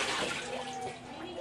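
Warm bath water sloshes and splashes in a tub while a puppy is being bathed, a steady close wash of water with a voice speaking faintly underneath.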